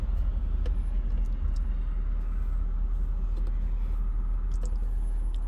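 A Jaguar XK8 cruising at about 55 to 60 mph with the windows down, a steady low engine and road rumble with wind noise, heard from inside the car.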